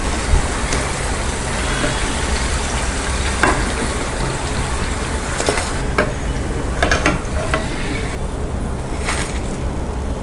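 Sliced Kerala Nendran banana chips frying in hot oil, a steady dense sizzle with faint bubbling crackles running throughout, close and continuous with no talking.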